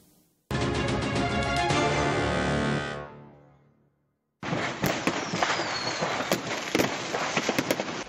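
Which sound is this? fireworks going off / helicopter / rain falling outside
fireworks going off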